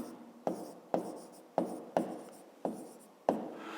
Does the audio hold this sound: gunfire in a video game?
no